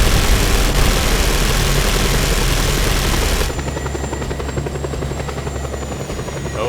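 A helicopter in the video game Just Cause 2, its steady rotor drone and engine hum loud and continuous, with the sound thinning slightly partway through.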